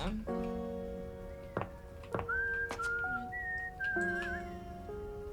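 Whistled melody in the video game Date Everything, a clear tune of held and gliding notes that runs for several seconds, broken by sharp clicks and played under a steady background music bed.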